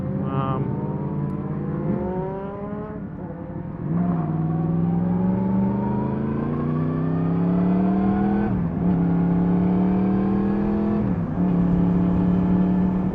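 Car engines drone steadily and shift gear as they pass close by on a road, heard from a bicycle on the way toward Settle. A loud, continuous rising hum runs throughout with no talking.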